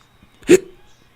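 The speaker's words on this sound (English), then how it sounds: "Do I got hiccups now?" One sharp hiccup from someone commentating a Chiefs versus Raiders football game, close and brief, with near silence around it.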